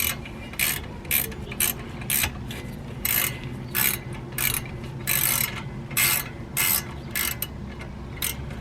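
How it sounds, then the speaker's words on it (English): A ratchet wrench tightening brake caliper bolts on a Lexus RX330, loud close clicking bursts in a steady back-and-forth rhythm, each stroke a short rasping ratchet run. "now tighten your caliper bolts"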